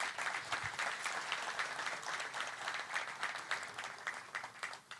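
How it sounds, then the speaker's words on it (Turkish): Audience at a journalists' award ceremony in Antalya applauding, a dense, steady wash of clapping from many hands, heard at a distance and fairly faint, sustained without a break. "Ben kendilerine kocaman bir alkış rica ediyorum."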